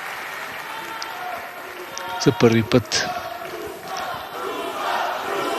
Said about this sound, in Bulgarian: Чувате и публиката в театър Шатле.